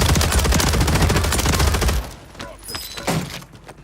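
Heavy automatic gunfire blazes continuously in the shooter Call of Duty: Warzone, then breaks off into scattered sharper shots and bangs.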